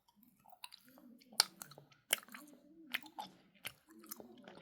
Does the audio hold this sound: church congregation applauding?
no